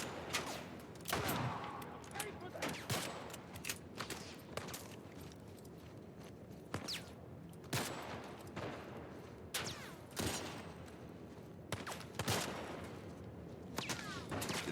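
Pistol shots in the survival horror game The Last of Us Part 1, fired one at a time as sharp, fairly faint cracks spaced irregularly over a low background of game ambience.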